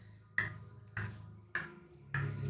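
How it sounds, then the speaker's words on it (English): Metronome struck and left ticking, four sharp, evenly spaced clicks about 0.6 seconds apart, each with a short bright ring, close and alone over a faint steady hum. "they lean over and they strike a metronome"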